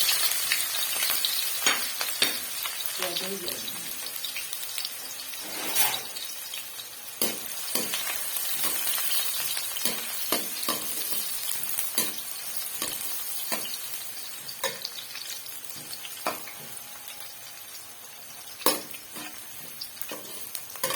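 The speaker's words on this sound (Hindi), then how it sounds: "तेल हमारा जो है वो गर्म हो चुका है। तो यहाँ पे मैं डालती हूँ प्याज।" Onions sizzling as they fry in hot oil in a kadhai while palak gosht is cooked, a steady crackling hiss broken by sharp stirring clatters and pops, fairly close and with no talking.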